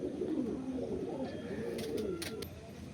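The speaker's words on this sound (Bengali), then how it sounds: "অরিজিনাল আন্ধ্রা পায়রা আছে।" Andhra pigeons, a pair of male and female, give soft, low cooing calls close by, with a few faint higher chirps near the end.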